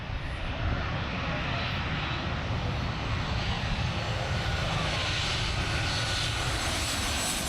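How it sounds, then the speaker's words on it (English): A United commercial jet roars low overhead on landing approach over Maho Beach, St. Maarten, a loud, steady, rumbling engine noise that fills the air without letting up. "United planes getting ready to come in"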